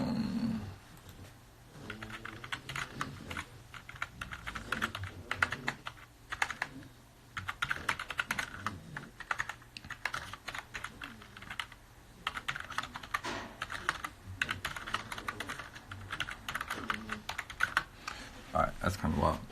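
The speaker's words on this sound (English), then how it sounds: "I type kind of ridiculously with one hand" Rapid one-handed typing on a computer keyboard, a dense, uneven run of clicking keystrokes that continues for the whole stretch at moderate level, close up, with no talk over it.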